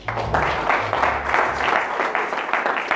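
A church congregation applauds during a French-language sermon, steady clapping carrying on for a few seconds with a low voice underneath at the start.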